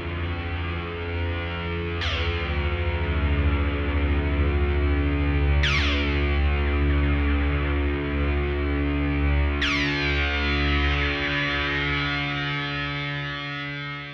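Voyager synthesizer run through distortion and effects pedals: a thick, sustained, heavily distorted drone with a bright sweeping swell returning about every four seconds, loud and alone.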